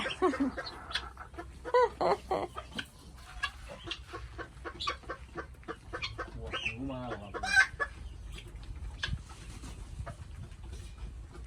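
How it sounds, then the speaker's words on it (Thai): Several pet bantam chickens cluck loudly and repeatedly up close, with sharp overlapping calls and a brief crow-like cry breaking through a busy backyard setting. "ไก่ตัวอื่น โอ้โห เสียงอะไรดังเหลือเกิน"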